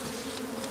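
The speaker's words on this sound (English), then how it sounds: "Okay, we got a bee." Bee buzzing close beside a bird nest in a pear tree, a brief continuous droning hum with no voices.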